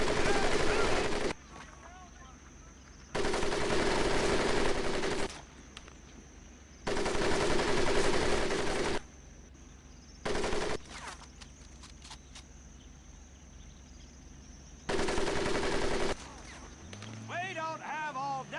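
Machine guns fire overhead during a boot camp crawl drill in the WWII video game Medal of Honor: Pacific Assault. Loud sustained bursts alternate with short pauses, and a shouting voice is heard near the end.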